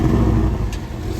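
Porsche 718 with a four-cylinder engine, a deep steady engine rumble heard close by, holding a constant low drone throughout without clear revving peaks.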